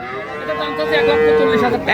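A Holstein Friesian dairy cow at a rural cattle market gives a sustained, loud, nearby moo lasting most of the moment, with faint market noise behind it.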